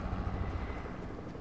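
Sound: helicopter in a video game

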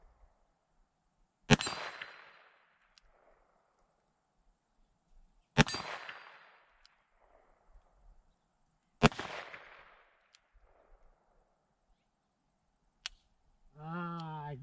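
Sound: Taurus 605 revolver shots hitting small steel plate

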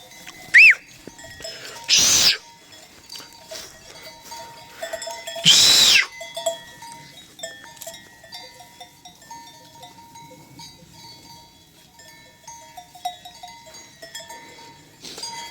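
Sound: sheep

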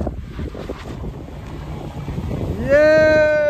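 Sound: wind blowing at snowy mountain pass

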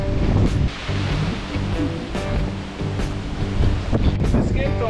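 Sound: wind

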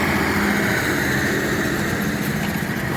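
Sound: tractor engine while sowing winter peas

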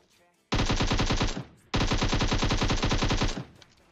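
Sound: gunfire from cheap guns in video game PUBG Mobile

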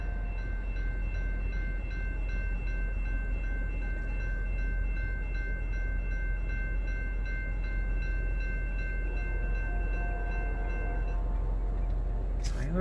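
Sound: CN freight train L563 arriving at Ladysmith

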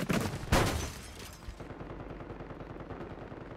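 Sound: gunfire in the Call of Duty video game

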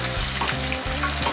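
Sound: onions frying in a pan

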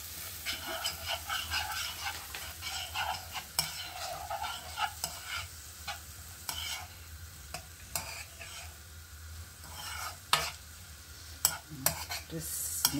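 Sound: stirring Jamaican jerk pork while cooking

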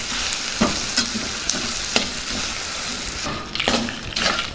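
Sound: stirring frying ginger, chillies, tamarind and jaggery

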